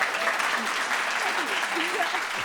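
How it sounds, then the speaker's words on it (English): Audience applause at a televised science discussion on the future of fertility, with a few faint voices audible beneath the steady clapping. "If you'd like to applaud,"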